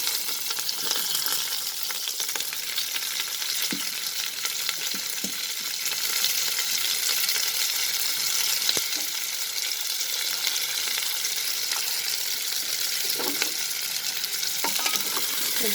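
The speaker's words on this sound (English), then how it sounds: "Let it splatter for some time. Then I'm going to add the onions." Hot oil sizzles and splatters in a pressure cooker, and onions are added and sautéed for chicken pulao. A steady, bright frying hiss continues throughout, with occasional soft stirring scrapes and no talking.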